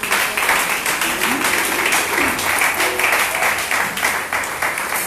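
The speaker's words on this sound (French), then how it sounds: "Est-ce qu'on peut donner une grande acclamation pour la parole du Seigneur?" A church congregation applauds at a Sunday service, a steady dense wash of clapping that holds for the whole stretch, with faint voices mixed into the crowd.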